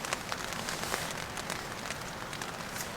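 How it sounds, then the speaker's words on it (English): Light rain patters steadily on a camping tent in Wyoming's Wind River backcountry, a dense, soft, close patter of drops continuing throughout with no talking. "if you can hear that pitter patter, that's a wee bit of rain."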